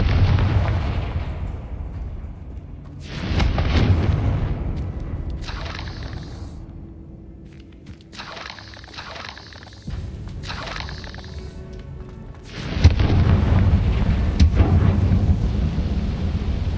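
Confringo fire spell explosions in the game Hogwarts Legacy, a series of heavy booming blasts in separate bursts, a few thudding impacts followed by a louder sustained roar near the end, with no talking.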